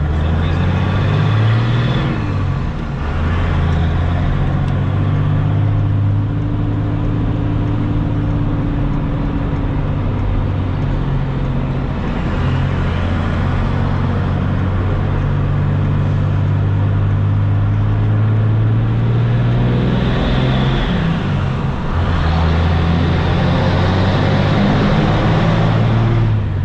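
Hotshot truck towing a car trailer loaded to about 26,000 pounds, its engine droning loud and steady with rising and falling pitch through several gear shifts, alone without voices.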